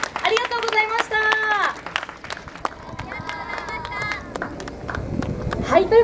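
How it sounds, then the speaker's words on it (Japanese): An audience at the Momotaro festival stage claps steadily after a song and dance performance by the Theatre Academy Okayama dance team, with an announcer's amplified voice talking over the applause. "大きな拍手をお送りください。"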